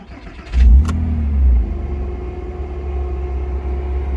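Porsche Boxster 2.7 engine starting: a brief starter crank, then a loud rumbling catch with a short rev, settling into a steady low idle, close and with no talk.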